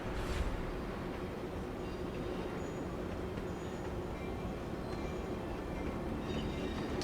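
A train runs in the Stone to Space modpack of a video game, a steady low rumble and rolling drone that holds evenly throughout at moderate level, with no talk.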